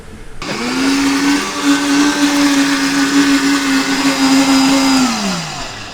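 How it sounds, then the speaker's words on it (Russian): A professional blender runs steadily at close range outdoors, holding a loud, even motor whine for several seconds before spinning down at the end. "давайте я вам покажу, как работает блендер. Не проблема. Хороший профессиональный блендер."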